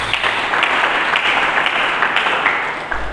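A church congregation applauds, a dense, steady wash of many hands clapping that holds loud and even throughout.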